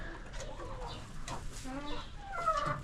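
Naked neck chickens cluck and murmur softly at close range on a farm during an egg collection, with a steady run of overlapping calls and no talking.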